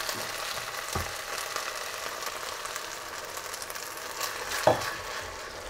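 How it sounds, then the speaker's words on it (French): Rice grains for oriental-style rice frying and starting to caramelize in a pan with a little added water, a steady soft sizzle with occasional scrapes of stirring and a sharper clack near the end. "On décolle bien les grains qui commencent à caraméliser en dessous, on les remonte au-dessus."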